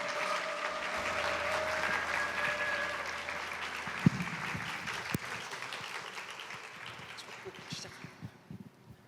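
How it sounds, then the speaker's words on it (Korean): A church congregation applauds to welcome a guest speaker, a broad wash of clapping that starts loudly and slowly fades away, with scattered louder claps near the end. "큰 박수로 환영해 주셨으면 좋겠습니다"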